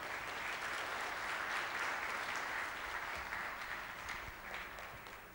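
Sustained applause from an audience at a business conference session in Lahore, a dense, steady wash of clapping that holds evenly throughout and fades slightly toward the end, with no talking over it.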